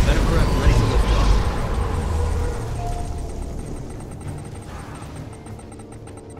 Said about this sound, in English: Venom craft ready for liftoff.